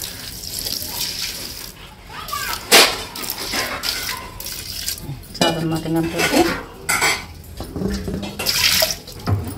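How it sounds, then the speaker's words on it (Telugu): Water being poured onto about three kilograms of jaggery in a pot while preparing ghee ariselu, with splashing, clinking metal and a running-water wash up close, and a person speaking briefly. "3 కేజీలు బెల్లం కదా, ఒక 1/2 లీటర్ సుమారు వాటర్ పోసి"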